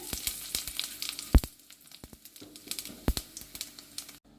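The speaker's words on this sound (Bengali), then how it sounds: "ফোড়নটাকে একটু ভেজে নিতে হবে" Dry red chillies, bay leaves, whole garam masala and cumin seeds temper in hot oil, crackling with sharp irregular pops over a faint sizzle before cutting off abruptly near the end.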